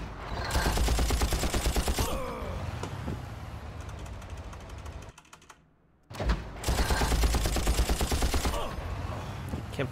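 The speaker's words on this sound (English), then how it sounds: "How are none of these shots hitting anybody" Rapid automatic gunfire from the first Far Cry video game sounds in two long bursts of crackling shots, separated by a short silent gap. It is loud and close, with a scattering of single shots between the bursts.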